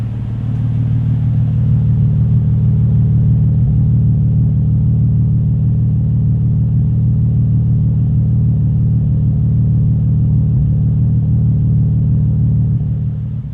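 A car engine idles steadily after a P2A00 sensor repair, heard from the rear as a loud, even low rumble with a faint slight unevenness, no voices over it.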